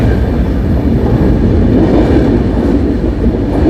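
The MAS-LTT SF Express rolls through the ghats near Lonavala with a loud, steady rumble from the carriages and a faint clatter of the wheels, close by and with no voices.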